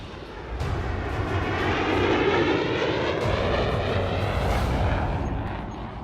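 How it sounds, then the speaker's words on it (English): A remotely piloted drone aircraft passes overhead, its steady engine roar swelling loud and constant for several seconds before easing slightly. "drones, which are remotely piloted aircraft"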